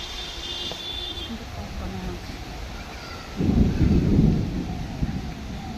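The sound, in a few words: thunder rumbling during rain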